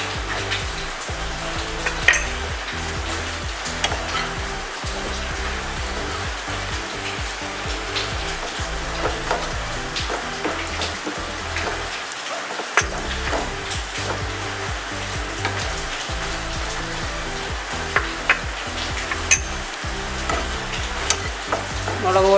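Boiled chicken with chili powder and pepper frying in a pan for Thalassery irachi pathiri, a loud continuous sizzle mixed with repeated scraping stir strokes, close up and without speech.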